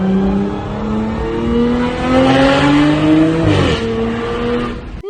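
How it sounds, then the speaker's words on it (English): An Audi S5 with an AWE touring exhaust revs hard, pitch climbing through gears with a brief drop at a shift, loud and close. "A full AWE touring exhaust."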